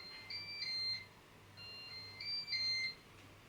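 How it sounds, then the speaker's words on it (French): A Cookeo multicooker gives two short electronic beep sequences while powering on, a bright tonal chime repeated about a second and a half apart, close and clear over a low steady hum. "on allume le cookéo"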